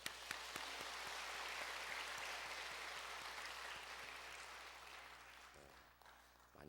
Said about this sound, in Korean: 하나님께 한번 박수 한번 합시다